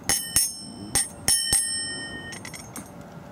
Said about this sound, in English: Love the bell.